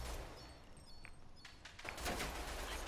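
Gunfire in the online shooter game Rogue Company, quiet bursts of rapid shots clustered toward the end over low background noise.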